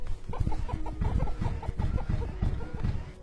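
Repeated clucking from a chicken character in a video game, a rapid series of short clucks running steadily throughout, fairly close and clear with a low thumping background beneath.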